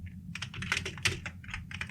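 Rapid keystrokes on a computer keyboard clatter close up in a quick irregular stream of light clicks, with no voices.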